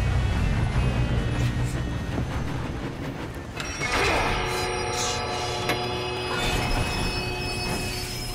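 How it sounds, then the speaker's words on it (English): A train rolls along the tracks in Red Dead Redemption 2, with steady rumble and metallic wheel squeal that grows louder and shriller midway, continuous throughout with no talk. "We have to stop this train."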